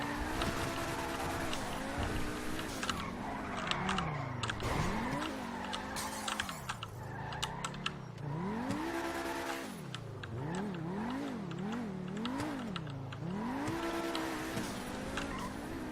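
A car in GTA 5 screeches and skids continuously, its engine revving up and down with wavering pitch while tires squeal through repeated slides, loud and steady throughout.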